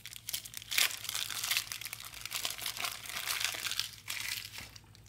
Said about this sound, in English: let's just take this off and let's unwrap the soap itself